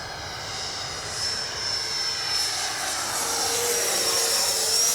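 A 90mm EDF Eurofighter RC jet flies in to land with its gear down, a steady whooshing ducted-fan whine with a high tone that grows slightly louder as it approaches, with no talking.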